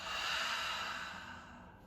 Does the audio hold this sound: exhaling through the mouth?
yes